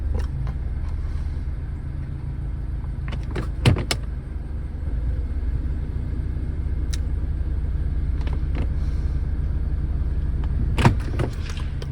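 A 2017-2022 Honda CR-V engine runs at a steady, close idle with a low rumble throughout, broken by a few sharp clicks and thumps; no clear shutdown is audible.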